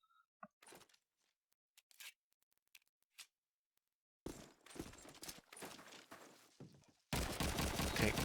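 MP44 submachine gun fire in Call of Duty 2 on the Burgundy map: scattered single shots at first, then dense bursts of rapid automatic fire ending in a loud, continuous volley.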